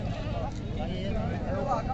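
Goats and kids bleat at a livestock market in Dewas, India, giving wavering cries close by amid a crowd's constant chatter.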